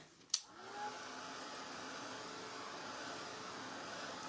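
Hair dryer blowing on painted ceramic plate: a click as it switches on, then a steady, fairly quiet whooshing drone that holds without talk.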